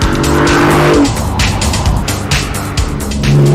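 A Lamborghini Countach drives hard, its loud engine roaring close by while the tyres squeal and skid in repeated bursts, with no talking.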